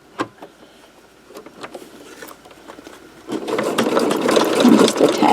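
A sewing machine stitches down a fabric zipper tab, starting after a few soft clicks and handling noises and then running in a steady, close mechanical whir.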